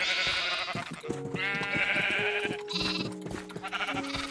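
Repeated sheep bleats from a video game, several cries in quick succession over a busy game soundtrack of music and effects, fairly loud and close.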